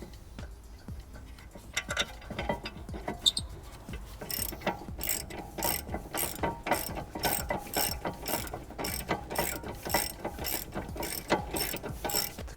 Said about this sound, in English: The caliper carrier bolts need to be torqued up to 88 foot-pounds, so set your torque wrench, just tighten those up.